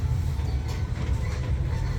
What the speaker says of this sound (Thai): รถไฟชมเมืองนะคะทุกคน